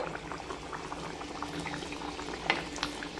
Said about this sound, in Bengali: ভাজার জন্য আগে থেকে আমি তেল বসিয়ে দিয়েছি, তেলের মধ্যে দিয়ে দিলাম।